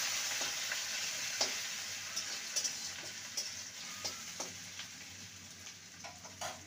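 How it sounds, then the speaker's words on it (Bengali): Ginger paste frying in oil in a pan for a vegetarian parwal and moong dal dish, a steady close sizzle with scattered light pops and occasional spatula taps. "আদা বাটাকে ভালো করে ভেজে নেব।"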